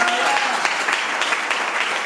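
A church congregation claps loudly and steadily during a Spanish-language sermon, dense applause filling the whole moment with a few cheers or voices mixed in.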